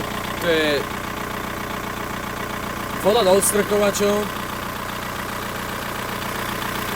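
A Škoda's 1.9 SDI diesel engine idles with a steady low hum throughout, while someone talks briefly over it.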